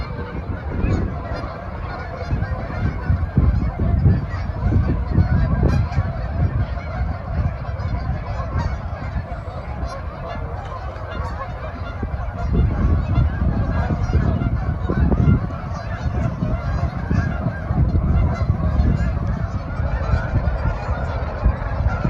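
Flock of geese honking continuously at dusk near a lit Japanese garden in Lethbridge, a dense, loud chorus of overlapping calls sustained throughout with no speech.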